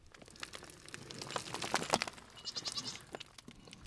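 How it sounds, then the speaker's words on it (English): Several goats bleat in a wavering series, fairly close and clear over a light background of rustling and crinkling, with calls growing busier toward the middle and end. "They're goats."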